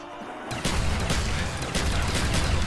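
Rapid gunfire in Call of Duty Black Ops on the zombies map Kino der Toten, with dense bursts of shots kicking in after a half-second lull and continuing loudly as a near-continuous volley.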